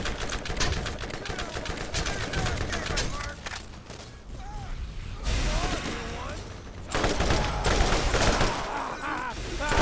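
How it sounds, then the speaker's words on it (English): Shotgun blasts in the Borderlands video game ring out as dense, loud bursts in rapid succession across the scene, mixed with other game effects and a voice talking over the action. "Shotgun to the face!"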